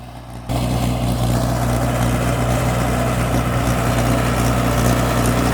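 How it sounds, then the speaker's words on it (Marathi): A Mahindra Arjun 555 tractor pulls a 7-foot Bull Power double-axle rotavator through untilled pigeon-pea intercrop. After a brief quieter moment the engine settles into a loud, continuous low drone that stays steady throughout. "555 अर्जुन महिंद्रा ट्रॅक्टर ओढत आहे 7 फुटी रोटावेटर"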